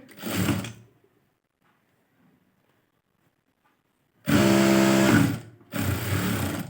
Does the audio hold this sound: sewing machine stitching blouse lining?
yes